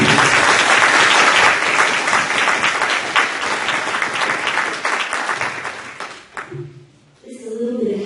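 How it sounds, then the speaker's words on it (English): Attendees at a school board of education meeting give a loud, sustained round of applause lasting about six seconds before it thins out and fades. A voice starts talking right after. "let's have a round of applause for the board."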